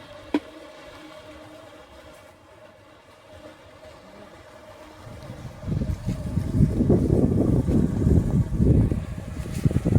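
Fish pond aerator set to double speed churning the water, starting as a faint hum and building after about five seconds into a loud, continuous rushing and splashing roar.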